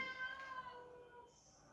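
Kitten meowing in a home, a faint drawn-out mew that fades out over a second or so, heard alone with quiet room sound behind it.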